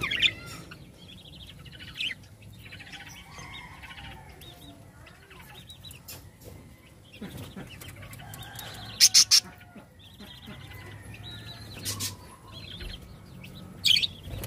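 Five baby parakeets chirp in scattered, thin, high peeps, with a few louder, sharper calls breaking through a quiet background.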